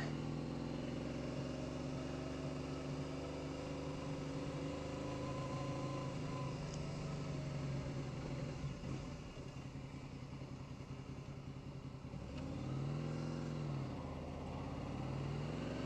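Motorcycle ridden gently on a wet road, a steady close engine drone with layered tonal harmonics, dipping slightly midway then swelling as the pitch rises and falls near the end.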